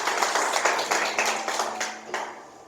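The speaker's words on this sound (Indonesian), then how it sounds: "beri tepuk tangan dulu dong buat Tuhan" Rhythmic hand clapping from a church congregation during a Sunday worship service, a run of distinct, fairly quiet claps that thins out toward the end.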